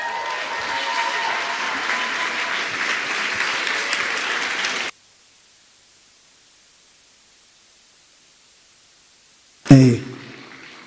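A TEDx Warri audience claps for the speaker Lady Diana, a dense wash of applause that cuts off abruptly to near silence, followed by a short loud burst at the end.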